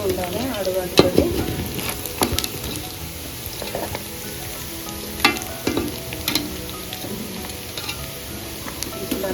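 Chicken pieces fry and sizzle in a pan for chicken pachadi while a spoon stirs them, a steady crackling sizzle broken by irregular scraping and clinking stirs, with no talking.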